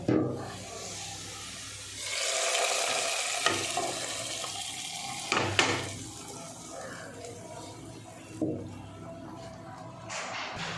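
A tempering of onion, chilli and asafoetida sizzles as it is poured onto drumstick leaves, with a burst of hissing and bubbling, spoon and pan clinks, and quieter sizzle trailing off.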